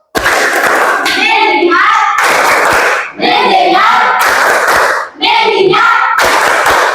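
A group performs the "tepuk fokus" focus clapping pattern, loud rhythmic bursts of hand claps and slaps in quick sequences separated by brief pauses, with voices chanting along close by.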